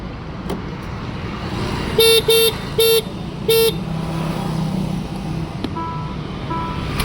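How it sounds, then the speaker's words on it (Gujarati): An Ola electric scooter's horn honks four times in short, evenly spaced bursts, loud and close, over a steady background of road and traffic noise with no talk. "જો બ્રેક મારીને હોર્ન વગાડીને દેખાડું."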